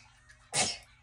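One short, sharp sneeze bursts out close by in a quiet room.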